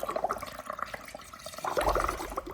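A child blows bubbles through a tube into a small home aquarium, giving soft burbling and gurgling water sounds, quiet and close, with a fuller surge of bubbling near the end.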